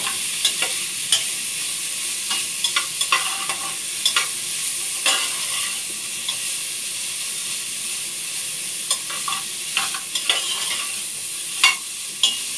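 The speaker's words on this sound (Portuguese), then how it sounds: "Fritar o bacon aqui." Bacon fries in a pan with a steady bright sizzle, while scattered clicks and scrapes from stirring break through over about twelve seconds with no voices.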